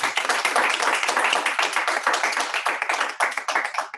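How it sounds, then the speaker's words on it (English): A small group applauds Matt Moreland, a NWS meteorologist-in-charge, after his talk on joining the service; close, distinct claps at a brisk irregular rhythm that grow sparser toward the end. "if everybody can give Matt a round of applause"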